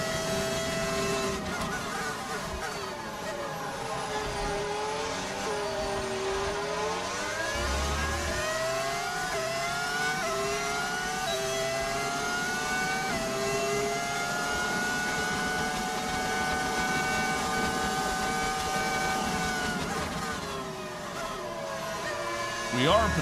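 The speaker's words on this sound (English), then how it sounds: "Love the car sounds." Formula 1 engines in the racing game F1 25, a continuous high whine of revving with rising and falling gear-shift sweeps. Voices talk over the engine noise throughout.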